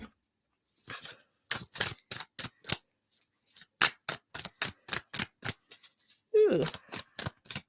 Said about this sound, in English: Nice big shuffle.